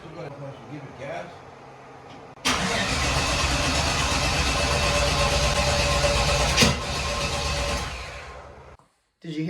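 A car engine cranks steadily and loudly for several seconds, with one brief bark as a cylinder tries to fire, then the cranking stops abruptly; faint talk comes before it.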